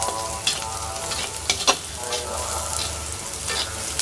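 Onions frying in an earthenware clay wok over a gas stove, a steady close sizzle broken by a few sharp scrapes and knocks as they are stirred.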